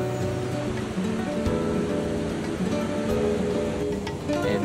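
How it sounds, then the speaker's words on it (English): Steady ocean surf washes onto a quiet beach on the Ecuador coast at Cañaveral, a continuous broad roar of rolling waves with no voices. "The waves were very chill."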